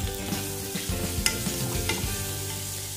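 Chopped tomatoes stirred into golden-brown onions frying in a pan, a steady close sizzle with scraping spatula strokes and a few sharp clatters, no voices.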